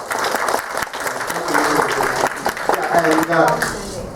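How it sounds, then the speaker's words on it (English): An evening event audience gives a round of applause, a short burst of loud clapping mixed with voices and crowd chatter throughout. "That's again another round of applause."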